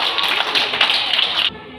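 Children in a second-grade classroom clap together in a quick, dense burst of hand claps lasting about a second and a half, then stop abruptly, with no talking over it.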